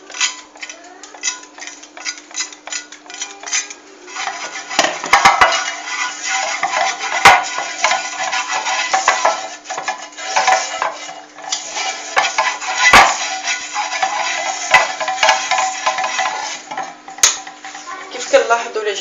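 A thick frying pan being handled and greased with a little oil: close metallic clatters, scrapes and knocks come in irregular bursts over a faint steady hum, with sharp clanks now and then.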